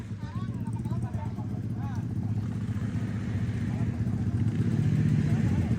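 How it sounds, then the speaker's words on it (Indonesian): A motorcycle engine runs steadily at a ninja-style drag race, a continuous rumbling drone under lively talk from people nearby. "Soalnya motor udah start"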